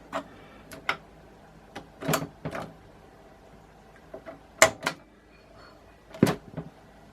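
Play and eject keys are pressed on a vintage Hitachi TRK-8180E boombox with a worn belt, giving a few sharp, close plastic clicks and clunks spaced irregularly over quiet background.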